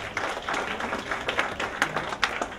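An audience at a marketing summit gives a round of light, scattered applause, with a few sharper claps standing out over a soft background.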